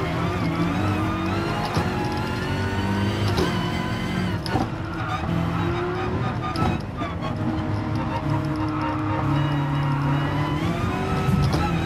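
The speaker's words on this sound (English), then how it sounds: "There's cars all over the place around here." Racing cars in Gran Turismo Sport during an FIA Manufacturers Series race, engines droning steadily and loudly throughout with harmonic whine, under an excited commentator's voice.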